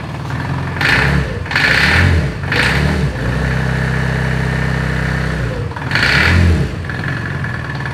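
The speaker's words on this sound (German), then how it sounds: "so hört sich der Motor an" A new Ligier JS 60 Chic microcar engine runs at idle and is blipped several times, rising in short revving bursts before settling back to a steady close-up idle, with no talking.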